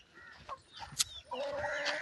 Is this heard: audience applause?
no